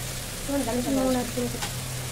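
Spice paste with chilli powder sizzling in a pan, a steady fry hiss with a constant low hum underneath and faint tonal sounds in the middle of the clip.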